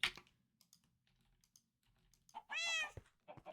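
A cat gives one clear, drawn-out meow close by, with scattered faint clicks and taps before it and a couple of short soft sounds after, in an otherwise quiet room.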